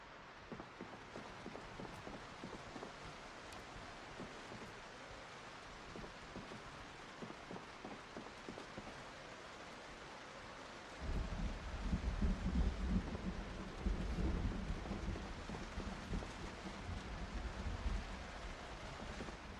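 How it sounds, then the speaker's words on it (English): Rain and a thunderstorm in the survival video game Project Zomboid: a soft, steady rain hiss, joined about halfway through by a louder low rumble of thunder that swells and lingers to the end. "Sounds like there's a huge storm going on."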